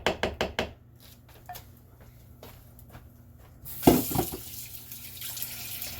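Water runs into a kitchen sink to soak dishes, a hissing gush starting after a few quick knocks and clatters of dishware, close and unaccompanied by talk.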